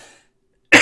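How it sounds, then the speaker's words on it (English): A single loud, close cough bursts out after a near-silent pause, following the tail of faint speech. "I'm coughing here."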